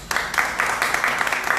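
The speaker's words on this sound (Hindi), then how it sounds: "अरे उसके लिए ताली तो बजाओ।" A church congregation claps together for a few seconds, a steady patter of many hands in a room, fairly close and uniform, with no voices over it.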